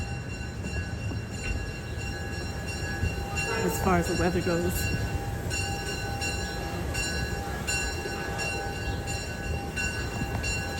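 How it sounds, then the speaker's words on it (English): A train leaving a station in a Maryland neighborhood rumbles steadily in the background, with brief rising squeals midway, while a person speaks briefly over the outdoor ambience. "That's the train over here."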